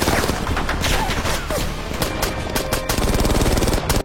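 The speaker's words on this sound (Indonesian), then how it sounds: "Musuh yang datang dalam jumlah besar sempat melepaskan tembakan ke arah helikopter." Enemy fire aimed at helicopters in an action film about a special forces unit: loud, continuous volleys of automatic gunfire with rapid overlapping shots and thumping impacts, sustained throughout.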